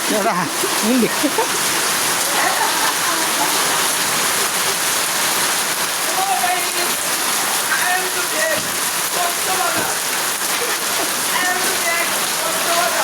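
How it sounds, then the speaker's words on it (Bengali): Steady rain falling on surfaces outdoors near a shelter, a dense continuous patter and hiss held at an even loudness, with faint voices underneath. "একটু বৃষ্টি ঠিক আছে"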